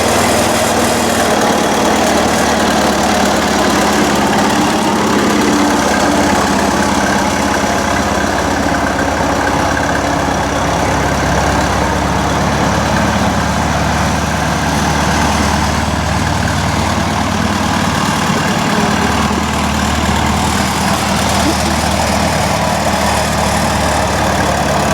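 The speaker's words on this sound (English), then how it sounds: "I'm going to pull up the Moline here and then start her up, see if it starts." A Minneapolis Moline gasoline tractor engine, unrun for about a month, runs steadily and loudly throughout with a constant low rumbling idle, close by with no talk over it.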